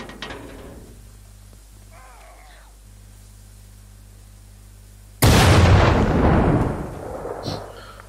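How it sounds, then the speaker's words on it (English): A sudden loud boom-like gunshot from the video game The Culling bursts in after quieter game audio, then decays over a couple of seconds with a smaller hit after. "Sounded like a gunshot."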